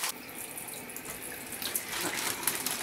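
Tap water runs steadily into a kitchen sink as potatoes are rinsed, a continuous close splashing hiss with small irregular spatters.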